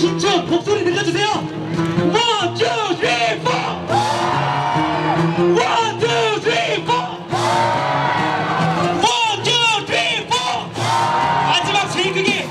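A crowd in Sinchon shouting a rhythmic chant in unison, loud and close, with repeated bursts of voices and whoops across the whole stretch.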